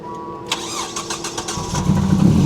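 An old car's engine at a Copart auction yard cranks with a few rapid turns and catches, then settles into a loud, steady running idle close by.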